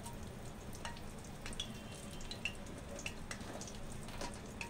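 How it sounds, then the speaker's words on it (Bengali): Bay leaves and pieces of dried chili crackle and spit in hot oil in a pan, a steady close sizzle with scattered pops and no voices. "তা তেল গরম হয়ে গেছে, আমি দুটো তেজপাতা দিয়ে দিলাম, আর একটা শুকনো লঙ্কা 2 টুকরো করে দিলাম।"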